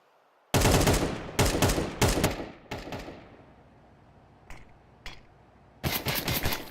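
Counter-Strike gunfire during an IEM Cologne Major match: several loud, rapid volleys of rifle fire separated by brief pauses, with a few fainter isolated shots in between, close and sharp.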